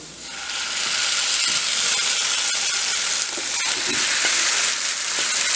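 Red chili paste hits light-brown garlic frying in hot oil for Schezwan sauce, setting off a loud, steady sizzle that holds for several seconds with faint stirring scrapes and no talking.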